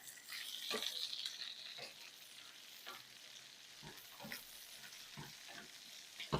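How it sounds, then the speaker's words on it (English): Bacon and a chopped large onion fry in a pan, a soft continuous sizzle broken by scattered pops and scraping stirs, fairly quiet throughout. "we're going to cook this until the bacon starts to get a little bit crispy and the onions have cooked down"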